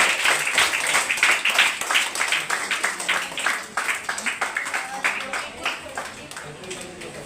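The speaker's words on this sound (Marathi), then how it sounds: "सर्वांनी टाळ्या टाळ्या वाजवायच्या आहे" A crowd claps steadily throughout during a garland offering at a Kunbi community function, a continuous patter of many hands, with some voices mixed in.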